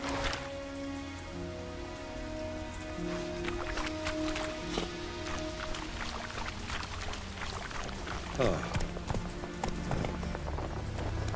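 Horse hooves clip-clopping in the video game The Witcher 3: Wild Hunt, a steady, close rhythmic trot over rainfall and soft background tones for the whole stretch.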